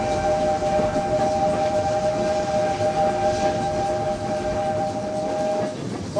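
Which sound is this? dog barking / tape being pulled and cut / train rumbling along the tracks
train rumbling along the tracks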